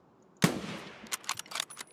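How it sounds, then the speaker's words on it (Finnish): A single sharp gunshot in the video game Escape From Tarkov, PvE mode, cracks out and decays, followed by a quick series of light mechanical clicks and clatters. "minä näen tuolla kaverin ja ammun"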